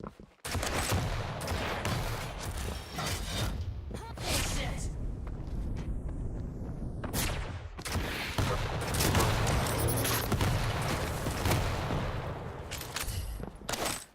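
Rocket launcher fire in the arena shooter Quake Champions comes as repeated whooshing blasts and booming impacts, layered over dense, continuous game action with hardly any pause.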